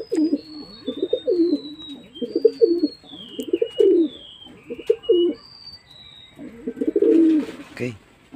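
Pigeons coo in repeated low, throaty phrases close by, with thin whistling chirps from smaller birds layered above them.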